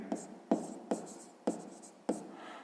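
Pen writing a math answer by hand on paper: five short scratchy strokes, each starting with a sharp onset and then trailing off, close and clear, with no talk.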